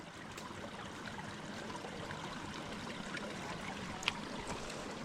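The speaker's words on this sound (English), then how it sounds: "Wow, you can really hear the water running here underground." Water rushes steadily beneath the rocks of a forest trail in the old-growth woods of the Great Smoky Mountains, a continuous muffled gurgle and trickle with no voices, fairly close and even throughout.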